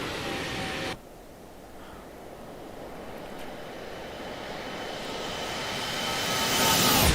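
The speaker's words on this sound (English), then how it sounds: "I'm gonna go ahead and show you guys the flyby." Aircraft passing overhead at night, a broad steady engine roar after an abrupt cut near the start, slowly swelling louder toward the end as it draws nearer, with no talk.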